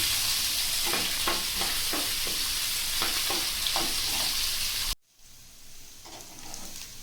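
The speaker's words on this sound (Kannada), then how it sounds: "ನೋಡಿ, ಎಣ್ಣೆ ಕಾಯ್ತಾ ಇದೆ. ಈಗ ಕರಿಬೇವು ಹಾಕೊಳ್ಳೋಣ. ಹಾಗೆ 2 ಈರುಳ್ಳಿ, ಇದು ಕೂಡ ಸೇರಿಸ್ಕೊಂಡು ಇದು ಚೆನ್ನಾಗಿ ಫ್ರೈ ಆಗಬೇಕು" Onions and curry leaves fry in hot oil for egg curry, a loud steady sizzle with stirring scrapes, then a sudden drop to a quieter, softer sizzle near the end.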